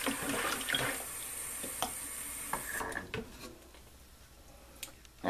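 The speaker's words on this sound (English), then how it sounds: "Now I'm going to fill this pan back up with water on top of the tea bags" Tap water runs into a pan holding tea bags while sugar is stirred in. The steady hiss and splash fades after about three seconds, and scattered clinks and knocks of the pan follow at a close, moderate level.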